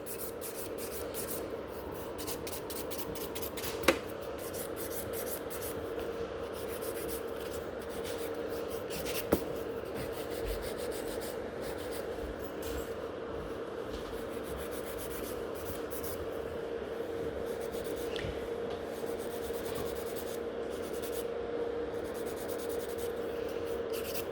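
A 100 grit nail file works steadily over gel nail extensions on tips being shaped into a coffin form, giving a continuous soft rasping scratch throughout with a couple of faint clicks and no talking.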